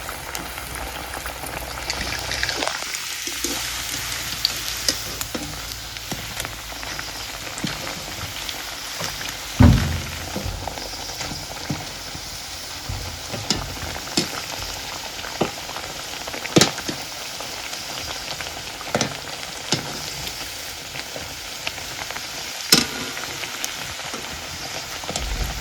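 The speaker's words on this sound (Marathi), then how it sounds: "असे मस्तपैकी तळून घ्यायचं वडं." Sabudana vada deep-fry in hot oil with a continuous bubbling hiss, dotted with sharp pops and crackles throughout.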